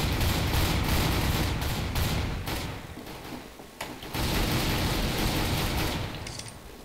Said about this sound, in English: Oh, this is an auto shotgun.